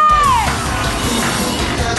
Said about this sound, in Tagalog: Palakpakan ng bawat isa sa inyo!